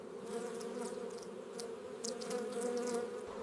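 Honey bees buzz steadily around hive frames of golden honeycomb, a dense, continuous drone with individual insects passing close now and then, no voices.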